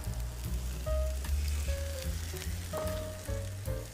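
Asparagus spears sizzle steadily in oil on a Camp Chef griddle, a close, continuous frying hiss that runs the whole time with tuneful music playing underneath.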